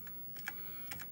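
Keys struck on an Apple II computer keyboard, a few soft, quick clicks spaced apart, quiet and close against a faint background hum.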